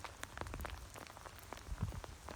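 Steady rain patters on a beach, with scattered drops striking close by over a soft continuous hiss and no one speaking.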